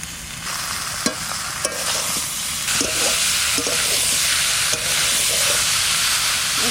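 Taro sautéed with coconut paste and mustard-chili paste makes a loud, steady sizzle and hiss in the pan, broken by repeated scraping stirs of a spatula. No one speaks.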